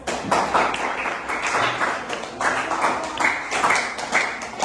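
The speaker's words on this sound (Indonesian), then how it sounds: "kalian sudah hebat beri tepuk tangan untuk" Students clapping for their classmates in a classroom at the end of a practical lesson on series and parallel electric circuits, a dense, steady round of hand claps lasting throughout.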